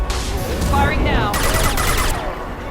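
Sustained fusillade of automatic gunfire in a Mass Effect 2 battle against a charging krogan, dense and continuous throughout with voices and game sounds mixed in.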